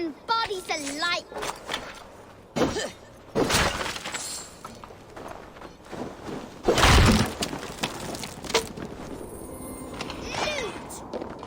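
Clay pots smashing in the game Assassin's Creed Valhalla: several sharp shattering crashes burst out amid combat noise, with game voices heard around them.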